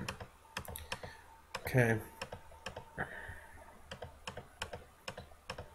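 Mouse and keyboard clicks while colorizing a black-and-white image in Photoshop: a rapid run of sharp, close clicks spread through the clip, with a brief spoken word in the middle.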